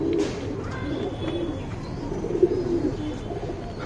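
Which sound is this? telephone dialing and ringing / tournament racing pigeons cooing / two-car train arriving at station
tournament racing pigeons cooing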